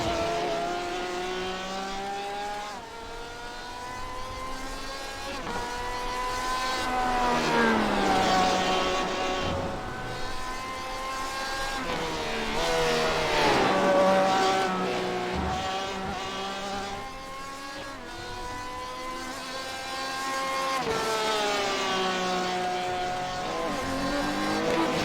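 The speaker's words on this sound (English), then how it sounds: "We're now starting to see quite a few more cars come out onto track now." Several Porsche race cars circle the Watkins Glen track, engines rising and falling in pitch as they accelerate past and fade, a continuous loud drone with overlapping revving passes and no talk.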